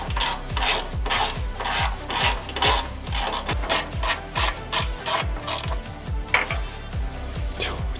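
A ratchet wrench works bolts off a plate on a Subaru WRX, giving a fast, steady run of crisp metallic clicks in quick repeated bursts, close and fairly loud, with no talking.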